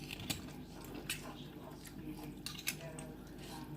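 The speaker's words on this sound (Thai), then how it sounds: "ก็จะมากิน ตำแครอทกันนะคะ ใส่น้ำจิ้มด้วยค่ะ" Carrot som tam salad eaten with cutlery, with soft clinks of utensils on a plate and quiet chewing, a few sharper taps standing out over low background hum.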